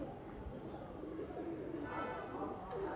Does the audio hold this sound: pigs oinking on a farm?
no